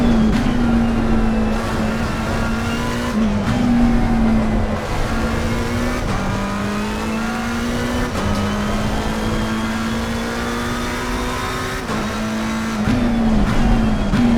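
A Bentley race car in the Assetto Corsa sim holds a loud, steady engine drone, with gear shifts and pitch drops as it slows, close and continuous throughout.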